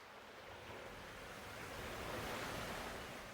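Gentle waves lap against a beach shore in a steady, soft wash of surf that swells slightly midway, heard alone with no voices.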